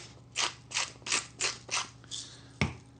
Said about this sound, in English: this salt grinder actually puts out very little salt